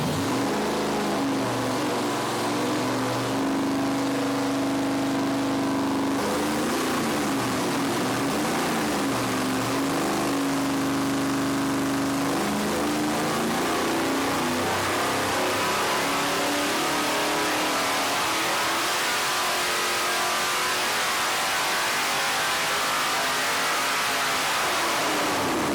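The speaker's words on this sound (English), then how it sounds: "Even a 305 on nitrous sounds awesome." A Chevy 305 small block V8 running on nitrous revs loudly and continuously, its pitch shifting through rising and falling pulls with a dense, roaring exhaust tone and no voices.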